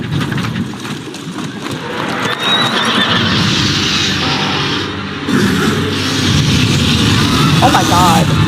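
A horse neighs and whinnies in the video game Elder Scrolls Online, loud amid game sound effects, hoof clops and a busy mix with voices speaking over it.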